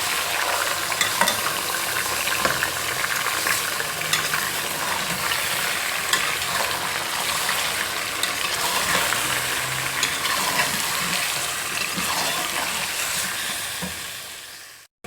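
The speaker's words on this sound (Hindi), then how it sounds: "अब मैं इसको भूनूंगी कि इसका कलर चेंज हो जाए" Ginger garlic paste fries and sizzles in a pan for chicken biryani, a steady loud crackle with occasional stirring scrapes, fading off at the very end.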